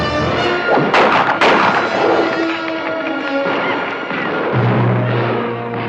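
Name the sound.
gunfire in a western film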